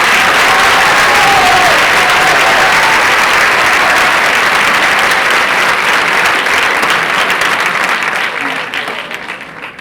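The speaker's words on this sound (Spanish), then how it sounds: "Un forte aplauso." A large crowd at a high school graduation ceremony gives teachers loud, sustained applause that fills the room, easing slightly toward the end.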